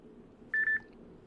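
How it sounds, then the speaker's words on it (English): An alarm sounds in The Sims 3 video game as a brief cluster of three quick, clean electronic beeps over quiet background hiss. "Oh, and there's the alarm."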